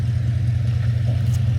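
A 2006 Mercedes S-Class Kompressor idles steadily with a deep, even low rumble and faint clatter on top, constant in level and heard alone without any talk.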